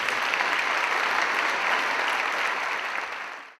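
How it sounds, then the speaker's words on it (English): Dense, steady audience applause after a talk on sex education, starting abruptly at full strength, holding loud and even, then cutting off quickly at the end. "that applause started a bit too quickly for me not to think it was artificially inserted into the recording"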